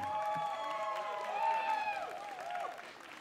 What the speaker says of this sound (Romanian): De la Fălticeni, domnul Tihan, aplauze!